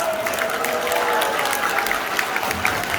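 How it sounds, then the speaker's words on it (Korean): A rally crowd claps for its chairman, a continuous wash of applause with scattered cheers holding at a steady level from start to finish. "큰 박수 한번 부탁합니다"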